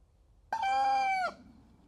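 A backyard rooster gives one loud, clear crow close by, a single sustained call of under a second that stands out against quiet surroundings.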